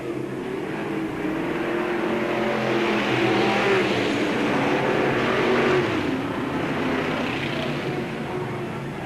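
Modified race cars roar around a Bureau County Speedway track, a dense blended engine drone rising and falling as the pack passes, loud and continuous with no talk over it.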